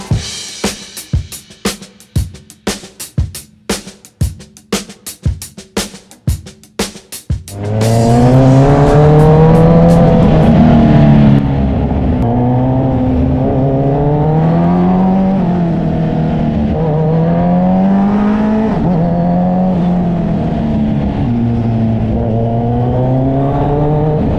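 Kawasaki Z1000R and ZX10R motorcycle exhausts fire in sharp, rhythmic blips, then hold a loud, sustained high idle with rising and falling engine notes.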